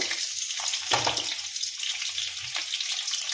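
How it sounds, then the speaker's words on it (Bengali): Garlic frying in hot oil in a pan makes a steady, loud sizzle and crackle with small pops scattered through it. It comes close up and continues alone, with no voices over it. "তেলের উপরে রসুনটা আমি আগে দিলাম, রসুনটা একটু লাল লাল করে ভেজে নেব।"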